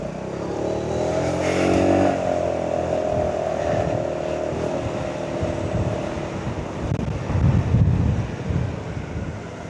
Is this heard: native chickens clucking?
no